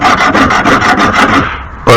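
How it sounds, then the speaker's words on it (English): A belt sander fitted with a coarse low-grit belt sharpens a blade in a rapid series of loud, rhythmic rasping strokes, fading briefly before a final harsh scrape. "I use my belt sander with a high grade, or I should say low grade number of belt to sharpen my"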